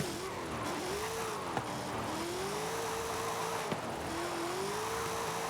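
Hoonigan Unicorn V2 drift car engine in the Forza Horizon 5 video game, a steady droning tone that dips briefly in pitch as it shifts, continuous and moderately loud with no talking.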